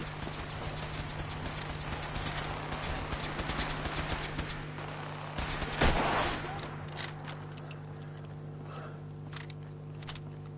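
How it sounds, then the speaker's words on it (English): Minigun fire in Fallout 4: a rapid, rattling stream of shots for about six seconds, peaking around the sixth second, then thinning into scattered impacts and faint combat noise over a steady low game hum. "Oh, that fucker's got a minigun!"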